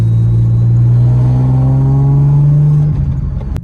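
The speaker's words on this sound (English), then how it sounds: "Let's do another first gear pull." A BMW E30 with a 3.93 limited-slip differential and a 5-speed ZF gearbox accelerates hard in first gear, its engine note rising steadily and loudly from inside the car before easing off near the end.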